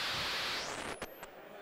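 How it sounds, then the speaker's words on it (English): A Catalyst Audio synthesizer noise module gives off a steady hiss of white noise, bright at first and then filtered darker, with a couple of brief clicks near the end; no voice is heard. "So this is what we're hearing now is the noise module."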